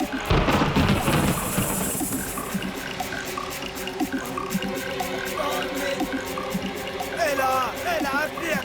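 Cartoon thunderstorm conjured up, a loud crashing burst of thunder followed by steady rushing rain and rumbling, with voices and music-like tones layered over it.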